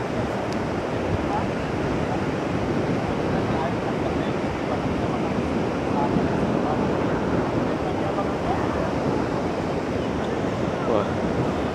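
Steady roar of surf breaking on the beach at Legian and Double Six, a continuous close wash of waves with wind buffeting the microphone throughout.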